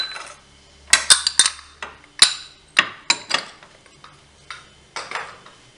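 A spoon clinks against a bowl while dry ingredients for Moroccan butter ghriba cookies (almonds, granulated sugar, leavening and vanilla) are stirred together: a dozen or so sharp, close taps in an uneven rhythm, with no voices.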